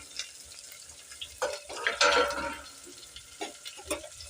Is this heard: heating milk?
yes